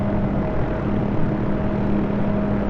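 A Hughes OH-6A helicopter in the DCS flight simulator drones steadily, its engine and rotor giving a constant hum with tonal whine lines and no talking.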